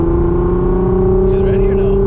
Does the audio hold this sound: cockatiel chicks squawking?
no